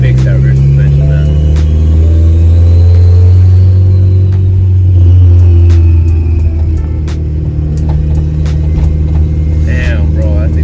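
Interior view of a Honda Civic whose engine runs rough: a loud, continuous low rumble fills the cabin, with uneven surges in pitch as it revs, steady throughout.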